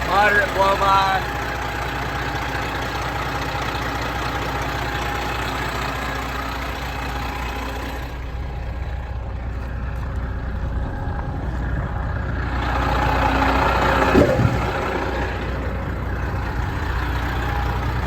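A 2016 Peterbilt 389 factory glider kit flattop truck idles with moderate blow-by, a steady low diesel rumble running unbroken for the whole stretch and swelling slightly near the end.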